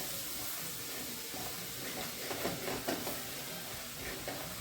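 Yesur masala sizzling and roasting in a pan for chicken sukka, a steady broadband hiss with faint stirring scrapes throughout, no talking.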